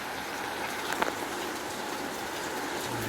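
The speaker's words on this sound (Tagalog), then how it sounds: "medyo maulan ngayong umaga." Steady rain falls on a wet morning during a typhoon in Manila, a constant even hiss with a faint thud near the start and no voices.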